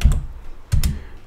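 Keystrokes on a computer keyboard while setting up a virtual machine for MySQL, two short bursts of typing about half a second apart, close and clear with no talk.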